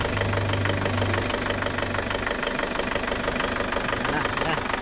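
Car engine idling, a continuous rough low rumble with steady vibration throughout, moderately loud with no pauses.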